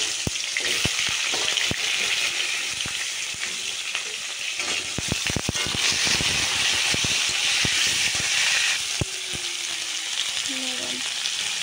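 Cauliflower florets sizzle loudly in hot oil with cumin seeds and bay leaf, a dense, continuous frying hiss with sharp crackles and pops, heard close up without talk.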